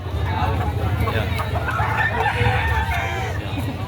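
Chickens and roosters, including a four-month-old bird for sale at a market in Lemery, Batangas, cluck and crow amid a steady hubbub of voices and crowd noise.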